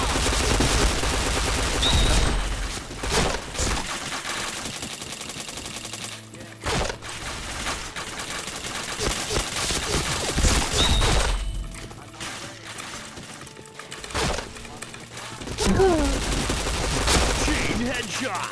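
Rapid bursts of video game gunfire crackle through dense action, with repeated volleys and automatic fire close and loud, pausing briefly before resuming, while a game voice calls out announcements.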